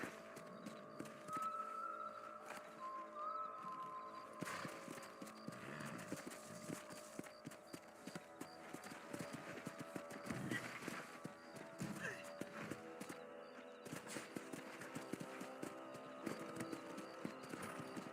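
Hooves pound in a steady galloping clip-clop as a horse runs across a ranch property in Red Dead Redemption, soft and even throughout with no talking.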